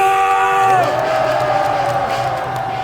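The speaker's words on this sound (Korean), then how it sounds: "20대 앞으로 함성." A rally crowd of people in their twenties roars with cheers and shouts in Daegu, a sustained loud wall of voices with whoops rising over the mass.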